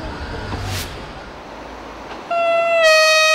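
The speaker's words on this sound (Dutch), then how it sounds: "Geniet er dus van prachtige beelden van historische Zwitserse treinen" Historic Swiss trains: rumbling railway noise that gives way to a loud, sustained multi-tone horn blast near the end, with no voices.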